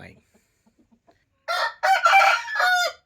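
A rooster crows loudly nearby, one full cock-a-doodle-doo call after a brief quiet moment with faint clucks.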